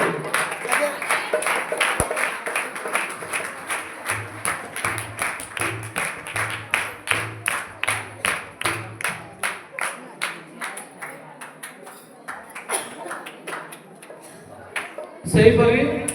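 A church congregation claps together in welcome, many hands beating in steady, fairly loud rhythm that slows and thins toward the end, with a brief low thump near the finish.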